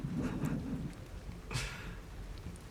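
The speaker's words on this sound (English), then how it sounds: "I'm so glad we've got this raining soundtrack on" A rain and thunder ambience track plays as background during an online tabletop role-playing game session: a faint, steady hiss of rainfall with a soft rumble of distant thunder.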